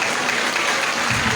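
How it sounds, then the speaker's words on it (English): Loud, continuous crowd applause in a standing ovation for a Yoruba leader at a public gathering, a dense roar of hands with no gaps. "Keep clapping, keep clapping."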